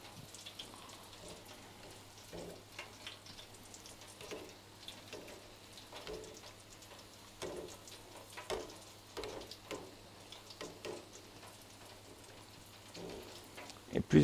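Bugnes dough frying in hot oil, a quiet continuous crackle with scattered soft pops and bubbles, faint and close, no talk over it.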